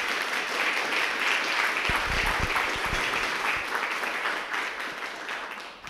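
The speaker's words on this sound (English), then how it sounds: "I'd like to give her a round of applause" An audience at a community meeting about water issues gives a sustained round of applause, a dense even clatter of many hands that fades slightly near the end.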